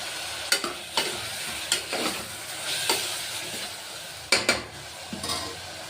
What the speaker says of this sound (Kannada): ಟೊಮೊಟೊ ಹಣ್ಣು ಫ್ರೈ ಆಗ್ತಿದೆಯಲ್ಲ